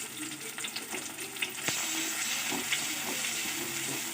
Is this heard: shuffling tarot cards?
no